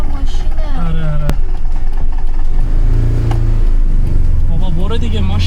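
Iranian Saipa Pride car engine cranking, catching and revving up, a loud steady mechanical drone that rises and falls in pitch, with people talking over it throughout.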